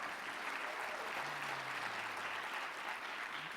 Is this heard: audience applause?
yes